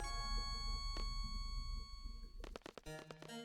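A bell rings out in Final Fantasy VIII Remastered, a sustained metallic tone that lingers faintly, followed by a quick cluster of clanging strikes near the end, all at low volume.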